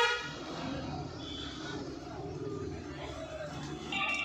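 A car horn toots briefly over a low engine rumble heard from inside the vehicle during a driving lesson on a single-lane road, sounding again near the end.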